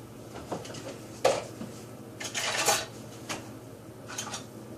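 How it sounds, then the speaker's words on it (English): A metal spoon is pulled from a set of utensils, giving a few light, close clinks and rattles of cutlery with quiet pauses between. "Alright, let's get a spoon."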